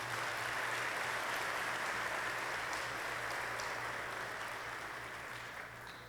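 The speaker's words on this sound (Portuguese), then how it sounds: "Gostaria que vocês se aplaudissem," Audience at a lecture on socioemotional education applauding steadily as a dense, sustained wash of clapping that slowly fades toward the end.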